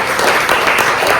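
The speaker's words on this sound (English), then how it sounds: "A little applause for the catering." Applause for the catering at a celebration-of-life gathering: a steady wash of clapping from a small crowd, close and fairly loud, running unbroken for a moment.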